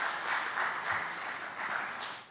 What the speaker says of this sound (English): Please, an applause to Dr.